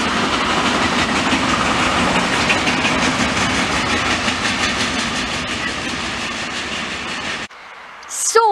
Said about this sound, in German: Da kommt mein letzter Zug für heute.